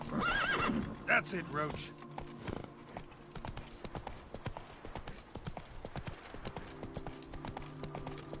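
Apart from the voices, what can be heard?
horse hooves and neighing in video game The Witcher 3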